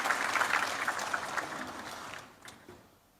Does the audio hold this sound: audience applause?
yes